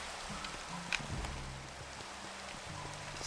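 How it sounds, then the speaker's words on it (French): Steady rain falls as a dense, even hiss with a few scattered brighter drop taps, moderately quiet and continuous throughout, with no talking. "il pleut encore"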